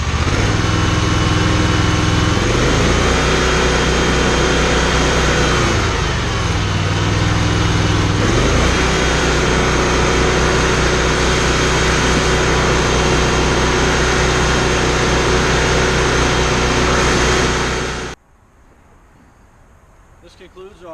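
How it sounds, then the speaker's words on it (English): An Exmark Laser Z mower engine converted to run on propane roars loud and close, its pitch dipping and rising through several RPM changes before it cuts off abruptly near the end. "we're going to test the engine through multiple phases of RPMs"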